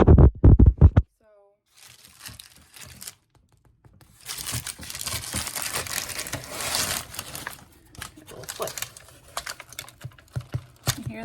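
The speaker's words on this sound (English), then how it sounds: "It really sounds hollow on the bottom." A baked soft sourdough loaf being tapped on its bottom for a hollow knock, mixed with rustling and crinkling of parchment paper and handling noise. A brief voice is heard at the start and there are several sharp close taps toward the end.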